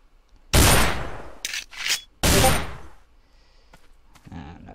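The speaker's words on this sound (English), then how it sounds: "Take turns shooting targets." Gunshots fired at targets in the Survivalist video game: two loud, sharp reports with decaying tails, a couple of smaller bangs between them, then quieter clicks, with no one talking.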